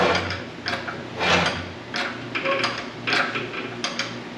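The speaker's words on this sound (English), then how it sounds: "You just keep going until it stops and then yank on the cherry picker." A cherry picker engine hoist lifts a truck engine on a chain, producing a close, repeated series of ratcheting clicks and metallic clanks in an uneven rhythm, with no talking.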